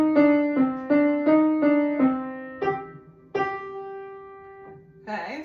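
The right hand of a piece is played on piano: a run of repeated detached notes, then a short scale of single clear tones, each struck distinctly and left to ring, with a brief brighter chord at the end.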